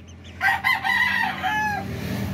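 A one-month-old chick gives a short, strained crowing call with wavering tones over a low background murmur. It is a single close call lasting about a second.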